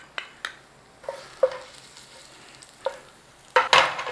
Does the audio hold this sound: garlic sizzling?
yes